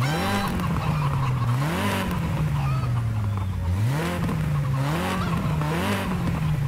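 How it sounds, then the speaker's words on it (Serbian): Stock VW Golf 2 on a drive, the engine droning and repeatedly rising and falling in pitch as it revs between gear changes, loud and close for several seconds with no talk. "Evo kako se čuje sa stock postavkama"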